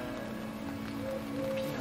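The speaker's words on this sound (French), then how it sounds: "Oh non, il pleut!" Rain patters on a tipi tent at the Grand Canyon, a steady soft hiss of drops on fabric, close and continuous, with faint background tones.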